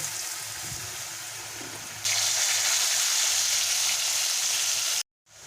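Diced potatoes frying in mustard oil with turmeric in a kadai for a pumpkin curry, a steady close sizzle that grows louder halfway through and then cuts off abruptly near the end.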